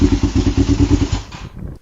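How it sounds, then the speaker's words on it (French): A 1997 Kawasaki ER-500 motorcycle's exhaust runs close and loud with a deep, rhythmic throbbing pulse for almost two seconds, then quickly fades out. "d'entendre ce bruit d'échappement"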